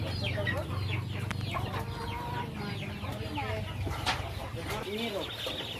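Chickens cluck and chatter continuously in a busy farmyard, with a low engine-like hum and occasional voices in the background.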